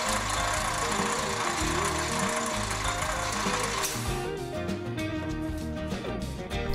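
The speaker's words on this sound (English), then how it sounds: "when the belt is placed on the low speed, the motor can easily start" A 4x6 inch metal-cutting bandsaw driven by a new 1/2 HP motor, belt on the low speed, runs with a steady loud mechanical drone and rattling hum throughout, with no talk.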